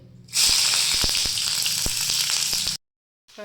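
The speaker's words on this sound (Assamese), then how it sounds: "এতিয়া মই প্ৰথমতে পিঁয়াজখিনি ভাজি ল'ম ইয়াতে।" Sliced onions dropped into hot oil for chicken biryani burst into a loud, bright sizzle that holds steady with scattered pops and spatula taps, then cuts off abruptly.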